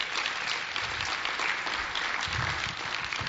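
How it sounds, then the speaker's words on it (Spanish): Loud, steady applause from a large church congregation during a bilingual service, sustained clapping throughout with no voices rising above it. "dele un fuerte aplauso"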